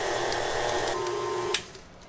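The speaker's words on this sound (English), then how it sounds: "you're going to turn your mixer speed up to medium and add the butter 1 cube" A stand mixer runs at medium speed, beating butter cubes into sugar cookie dough. A steady loud whirring drone carries a few soft clunks and drops away near the end, with no talking.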